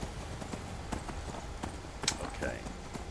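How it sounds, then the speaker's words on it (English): Horse hooves clip-clop steadily at a riding pace in Skyrim, soft and under low game ambience, with faint tonal effects near the end. "I can't get off my horse to pick them up"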